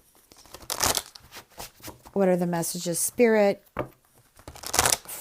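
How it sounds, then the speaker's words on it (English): Tarot cards are shuffled in short, papery riffling bursts at the start and end, while someone speaks in between. "So now I'm going to shuffle some cards for the general reading."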